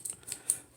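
Dull scissors snipping through fabric, three crisp blade cuts spaced roughly evenly, close but fairly quiet.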